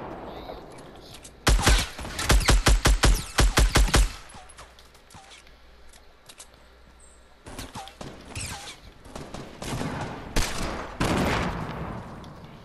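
Gunfire in Fortnite: a rapid burst of about ten sharp, loud shots, then quieter scattered bursts and a later run of louder shots. No speech.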